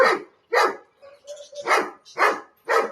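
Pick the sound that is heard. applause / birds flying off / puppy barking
puppy barking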